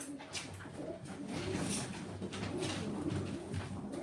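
Pigeons in a loft coo in soft, repeated throaty calls that overlap one another, close and steady against a dense, rustling background.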